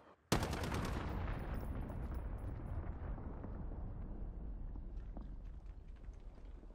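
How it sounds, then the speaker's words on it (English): A cruise missile strike in a multiplayer shooter lands as one sudden loud blast, followed by a long rumbling roar that slowly fades while scattered distant gunshots and smaller impacts continue under it. "Allied cruise missile away"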